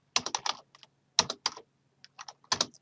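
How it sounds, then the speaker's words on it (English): Keys clatter on a computer keyboard while text is entered into a PowerPoint slide, close and clear, coming in quick bursts of several strokes separated by short pauses. "Slide 10, we're going to type presentation practice."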